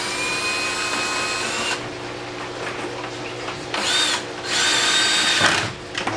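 Power drill boring a hole in the side of a modular hydroponic grow bed, heard as a high whine that cuts off, then two more close bursts of drilling, the last one longer.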